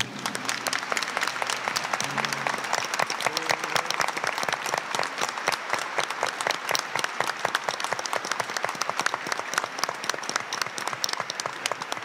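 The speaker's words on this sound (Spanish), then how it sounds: "Nos recibimos ante nuestra mamá como hermanos con este fuerte aplauso" A church congregation applauds together at a Sunday Mass, dense steady clapping filling the space for the whole stretch at an even, sustained level with no talk over it.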